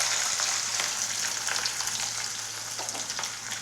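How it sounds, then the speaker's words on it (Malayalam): Medium onion sliced into thin strips frying in hot coconut oil, a loud dense sizzle right up close with a few stirring scrapes, continuous throughout with no talking. "ഇനി അതിലേക്ക് ചെറുതായി നീളത്തിൽ അരിഞ്ഞു വെച്ച മീഡിയം സൈസ് സവാള നമുക്ക് ചൂടായ വെളിച്ചെണ്ണയിലേക്ക് ഇട്ട് കൊടുക്കാം"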